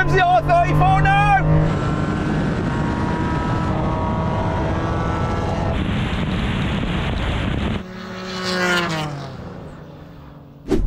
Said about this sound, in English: Oh, here comes the R34 now!